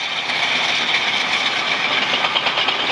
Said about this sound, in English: the little Fowler tractor. Fowler Showman's tractor.